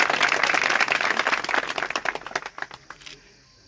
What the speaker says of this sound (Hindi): थोड़ी तालियां वालियां मार दिया करो